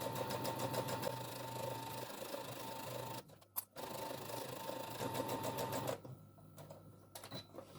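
A sewing machine stitches a seam along a drawstring bag with a fast, even mechanical whirr, close and steady, broken by a brief stop near the middle and easing off near the end.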